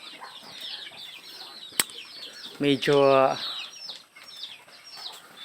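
Backyard chickens at feeding time flap their wings in quick bursts and cluck, with a brief loud call in the middle and someone speaking softly nearby.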